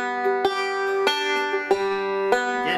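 Banjo alternating-thumb roll, the thumb reaching up to the fifth string between middle-finger and open first-string notes, plucked alone in a steady repeating pattern with sharp attacks about every 0.6 seconds and bright ringing overtones.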